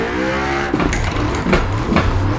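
A pro drift car in Assetto Corsa lets out a steady engine drone with revving surges. Sharp bursts of tire and exhaust noise come through, loud and close, with no talk over it.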